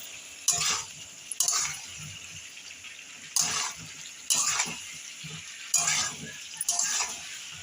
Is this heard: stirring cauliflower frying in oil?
yes